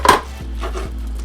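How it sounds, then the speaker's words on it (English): A knife chops through lobster meat on a cutting board, one sharp close knock followed by two softer taps, over a steady low hum with no talking. "So now I'm taking the meat out of the lobster, and then I'm gonna cut it up."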